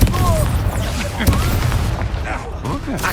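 A Confringo blasting spell booms in Hogwarts Legacy, with heavy low rumbling and blasts mixed with battle noise and voices throughout the short stretch.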